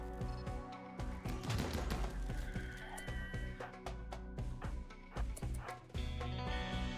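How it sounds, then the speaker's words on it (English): Chain shotguns fire in a RimWorld battle against mechanoids, sounding as a dense, continuous run of sharp, percussive blasts over a busy game soundscape, loud and close for the full stretch with no talk. "just shredding them with the chain shotguns"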